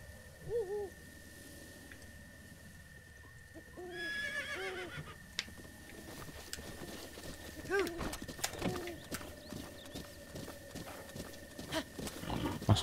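A horse in the video game Zelda: Breath of the Wild gives several whinnies, then a stretch of hoof clip-clops and scuffling sounds, all at moderate loudness over a steady in-game tone, with a few tonal calls early on.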